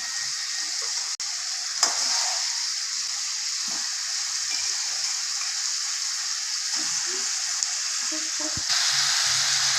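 Biryani ingredients and fried potatoes sizzle and fry steadily on high flame, a continuous loud hiss with occasional faint clatter of stirring.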